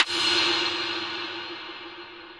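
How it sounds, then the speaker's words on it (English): A single sharp snare hit rings out into a long, bright reverb tail that slowly decays over a couple of seconds. "So I have the snare here."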